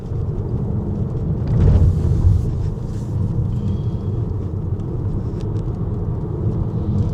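Haval H6 SUV by GWM taking corners, heard from inside as a steady low road and engine rumble with a brief swell in the middle and no talking.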